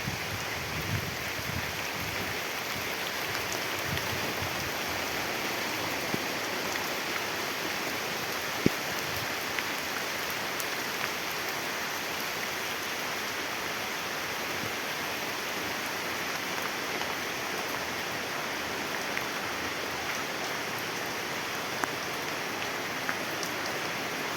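Steady rain pours down throughout, a dense even hiss with occasional louder drops close by, no voices.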